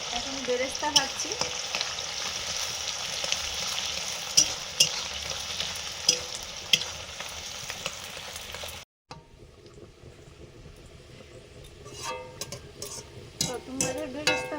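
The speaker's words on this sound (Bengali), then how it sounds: "এখন বেরেস্তা ভাজছি।" Sliced onions for birista fry in hot oil in a pan, a dense close sizzle with crackling pops and occasional stirring scrapes, then briefly quieter before the bubbling picks up again.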